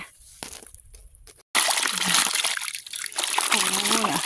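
Freshly caught fish are washed in water, with splashing and sloshing that starts abruptly and continues loud and close, mixed with trickling and voices speaking alongside.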